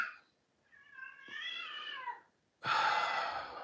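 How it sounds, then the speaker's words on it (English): A domestic cat meows in two drawn-out, wavering calls, the second louder and harsher, heard up close and alone in an outdoor garden. "Why does anybody ever get cats? They're just noisy."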